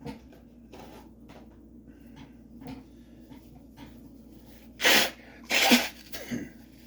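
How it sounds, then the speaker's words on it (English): Two short, forceful nose blows close by, each a breathy burst, following a stretch of quiet rustling and faint thumps. "I need to blow my nose."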